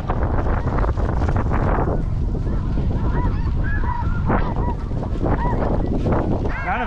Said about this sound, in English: We got snow geese. They haven't quit flying since we've been out here.